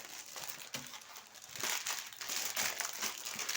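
Trading card packs are torn open up close, with continuous crinkling and rustling of foil wrappers and a few sharper tearing crackles.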